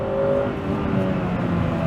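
A Honda Prelude VTi-R with its H22 VTEC engine revs hard under acceleration, a loud, steady, rising engine drone heard from inside the car with no talking.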